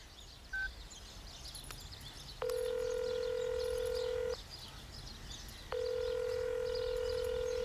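A telephone being dialed in a quiet room, with two long steady tones separated by a pause and a brief beep before them, fairly loud and close, with no speech.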